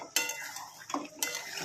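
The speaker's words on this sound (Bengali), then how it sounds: "এই দেখো মাংসটা মশলা দিয়ে কষাচ্ছি" Chicken is stirred with spices in a pan, with scraping and clinking of a utensil against the metal and a faint sizzle, in a few short strokes.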